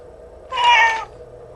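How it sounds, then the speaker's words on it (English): A single cat gives one clear, mid-length meow while being played with, close and fairly loud against a quiet room. "here I am playing with the cats"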